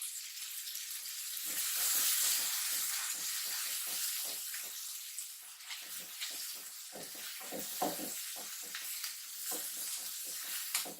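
Salted vermicelli dry-roasting in a pan: a constant close, bright hiss of frying with repeated soft scraping and stirring strokes from a spoon, steady throughout with no talking.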